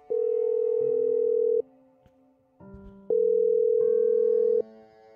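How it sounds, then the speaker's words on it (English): A telephone rings inside a house in a horror video game, two long electronic ring tones separated by a short pause, clear, steady and prominent with no voices over them. "hear the phone ringing in the house"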